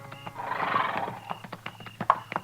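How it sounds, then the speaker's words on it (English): Horses whinny and neigh in a radio-drama Western scene on the buffalo-hunting plains at dusk, with a long, loud whinny early on, then scattered hoof clops and snorts close by. "This man's got horses."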